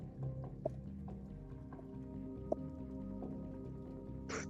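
Horse hooves clip-clopping in a slow, regular rhythm, soft and somewhat distant over a steady low hum, with a brighter burst of noise near the end.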